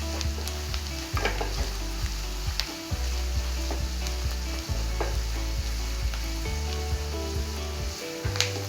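Spices and chopped banana flower fry in a pan for a masala curry, a steady close sizzle with repeated scraping stir strokes throughout, no voices.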